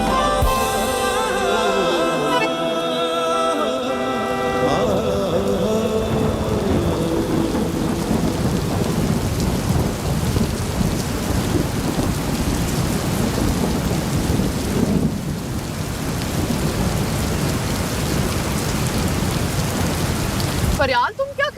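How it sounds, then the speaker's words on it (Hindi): Heavy rain pours down during a thunderstorm, with a long rumbling roll of thunder at the start giving way to a loud, dense wash of rainfall that continues to the end. "फरियाल, ये बारिश में क्या कर रही हो?"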